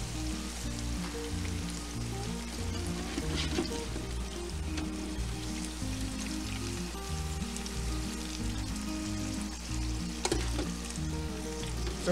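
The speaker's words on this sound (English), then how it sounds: "So with this batch, frying at 350 degrees" Steady, crackling sizzle of buttermilk chicken deep frying in oil at 350 degrees, continuous and close, with occasional sharper pops over a low background hum.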